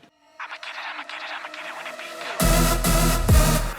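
A festival-style electronic dance track break starts with thin, quieter synth leads building for a couple of seconds, then drops into loud, full-range kicks and bright leads that pound steadily to the end.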